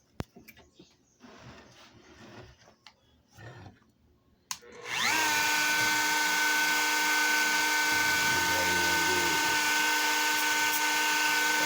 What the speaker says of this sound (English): I like to use this little grinding wheel for doing my cuts